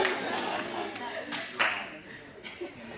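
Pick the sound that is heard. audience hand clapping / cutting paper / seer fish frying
audience hand clapping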